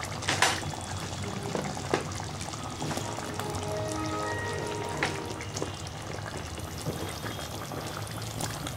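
Capsicum tipped into chicken gravy simmering in a pan, with a steady sizzling bubble and a soft pouring splash at the start, close and continuous with no voices.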